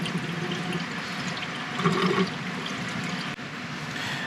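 About three liters of water poured into the radiator of an old Kubota F-Series mower for a coolant flush, a continuous gurgling, rushing stream that surges briefly midway, no talking.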